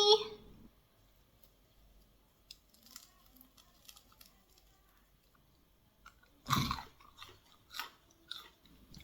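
Crisp Thai fried dough sticks (patongko) being bitten and chewed in a rural kitchen, with a loud crunch partway through and a few softer crunches after it, set against quiet pauses and a brief voice at the start.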